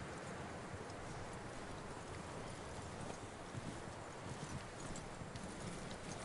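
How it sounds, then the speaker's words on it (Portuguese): Horse hooves clip-clop at a walk in Red Dead Redemption 2, a steady, soft, rhythmic plodding under a faint rain-like background wash, with no talk over it. "Levar o cavalo até o palanque."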